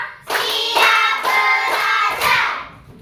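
Children in a classroom clap hands in unison on a count, with five distinct bursts of clapping in a quick even rhythm, close and fairly loud.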